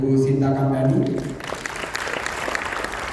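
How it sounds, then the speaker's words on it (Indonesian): Audience applause at the opening of a modern retail day event in Indonesia, a loud burst of clapping that starts after about a second of voice or tone and carries on steadily to the end. "Mari beri tepuk tangan kepada Ibu Sinta Kamdani"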